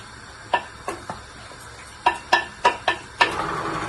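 Utensil stirring salt and black pepper into a vegetarian omelette mixture in a bowl, Jamaican style: a string of light clinks and taps, a few spaced early then a quicker cluster, close and fairly quiet with no talk.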